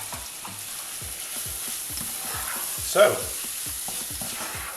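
Chopped onion, a teaspoon of cumin and half a red bell pepper fry in a pan with a steady close sizzle, punctuated by regular scraping stirs and one sharper clatter midway.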